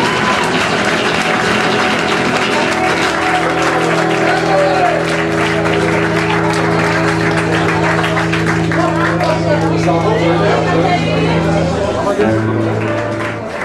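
Live audience clapping after a song ends at a music show, a steady crowd applause under a sustained low musical drone, with voices speaking over it.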